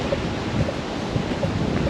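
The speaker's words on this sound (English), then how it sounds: "It's very windy up on top of this mountain" Strong wind buffets the microphone on top of a mountain at Big Pocono State Park in the Poconos during a fall hike, a continuous loud rumbling roar with no talking.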